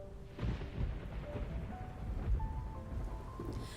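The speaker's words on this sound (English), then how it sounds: "Raindrops fall from the dark clouds that blanketed the sky." Steady rain falls in a game scene, a dense wash of drops with low rumbling thunder rolling beneath it, constant and moderately loud with no voices.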